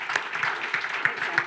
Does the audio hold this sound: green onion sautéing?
no